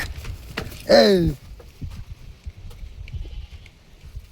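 A hungry goat on a farm gives one loud, wavering bleat close by. Quieter rustling and faint background noises follow.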